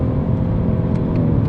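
A Genesis G70 3.3T engine in sport mode with paddle shifting gives a steady, loud low drone heard from inside the cabin, with a faint whir and a few soft clicks on top.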